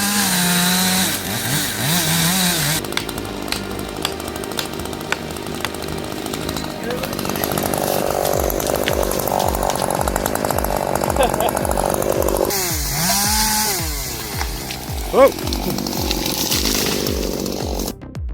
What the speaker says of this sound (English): Chainsaw power meets danger as the cut releases unstoppable force.